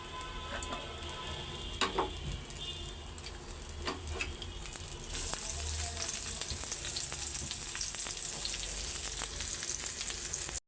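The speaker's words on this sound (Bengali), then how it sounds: "এখন তরকারিটা বসাই দিই আমি এইভাবে ভাজা একটু তরকারি রান্না করবো" Egg curry fries in a pan on a home stove, a steady sizzle with scattered crackles and faint clinks early on, then a louder, denser frying hiss that carries on to the end.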